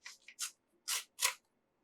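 Paper being cut or torn by hand without scissors in a classroom lesson: about five short, close, rasping bursts with brief pauses between them, and no voices.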